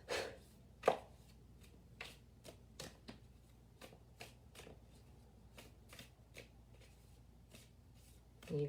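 A tarot card deck being shuffled at close range, with a run of quick, crisp riffling and tapping bursts spaced irregularly and fairly quiet, opening with a sharper clack; soft talk is faintly present in places.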